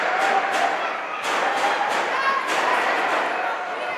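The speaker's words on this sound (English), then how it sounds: "You hear the student section say, "Let's go, Trojans," banging on the wall." A student section at a high school boys' hockey game bangs on the rink wall in repeated sharp thuds amid crowd noise, with an announcer talking over it.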